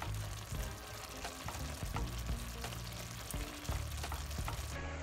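Chicken pieces fry in a pot for a chicken and rice pilaf, a steady close sizzle with frequent stirring clinks and scrapes of the spoon throughout, no talking.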